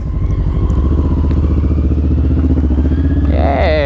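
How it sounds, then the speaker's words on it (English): A motorcycle being ridden, its engine running steadily and loud and close throughout, with a rising rev or whine near the end. "never get any footage of my own motorcycle because I'm always riding it."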